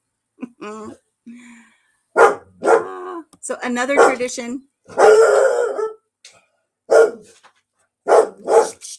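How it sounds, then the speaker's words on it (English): A small dog barks repeatedly in short, loud, close bursts with pauses between, while a person talks over and around the barking. "Stop barking."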